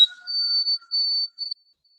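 A single whistle-type bird call, a clear high pure tone held for about a second and a half with two short breaks, heard alone and fairly close with no other sound around it.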